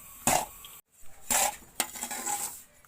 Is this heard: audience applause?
no